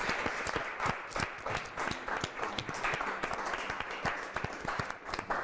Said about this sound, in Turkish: Ve de gerçekten hepimiz gönülden alkışlıyoruz.